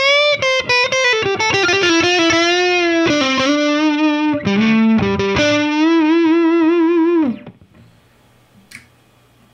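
Distorted electric guitar on the neck pickup through a Boss Katana 100 amp, played as a loud sustained lead line with bends and quick note changes, then cut off into near silence.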